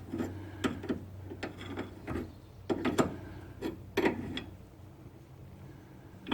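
A 22 mm wrench tightens a tie rod end nut on a Mitsubishi RVR, making a series of close, irregular metallic clicks and scraping knocks in short bursts.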